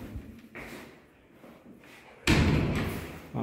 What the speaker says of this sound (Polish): Tak jest, już widzę, drzwi automatyczne.